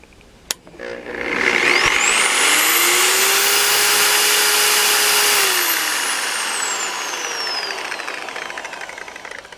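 A 7 inch Simoniz polisher and sander spins up to its maximum speed of around 3,000 RPM, a loud rising whine that holds steady for several seconds, then winds down with a falling pitch, alone and close.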